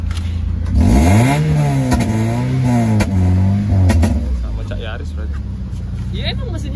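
A Toyota car with a Yaris engine revs up and down in rising and falling swells, close by, with people talking over it.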